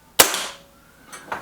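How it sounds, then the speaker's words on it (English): A Beeman 1357 air pistol fired at a target gives one sharp, loud, close crack that rings off briefly, followed about a second later by a softer mechanical snap. "Here we go, first shot, red rings."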